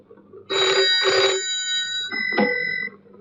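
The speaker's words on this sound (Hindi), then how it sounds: "सर, आपका फोन।" A telephone rings in short double bursts of bright electronic trilling, followed by a quieter chirp, in an indoor scene with no one talking.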